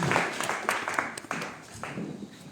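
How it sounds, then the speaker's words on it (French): A church congregation applauds and cheers to acclaim the Lord after a scripture reading at an evening service, a steady crowd of clapping with scattered louder bursts, fairly close and sustained throughout. "Nous acclamons le Seigneur très très fort pour cette parole."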